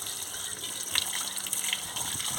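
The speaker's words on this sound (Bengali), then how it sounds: "এবারে আমি ধুয়ে নিচ্ছি" Tender pumpkin leaves washed in water by hand, a continuous close splashing and trickling gush with small bursts, no voices.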